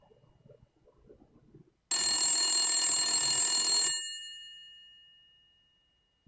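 A telephone rings once after a call is placed: a bright electronic burst lasts about two seconds and then fades, following some faint low talk.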